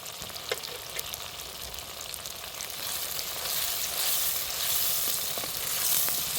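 A pinch of asafoetida drops into hot tempering oil in a pan for a small-fish curry, and the steady close sizzle grows louder and fuller, with a few faint clicks and no talking.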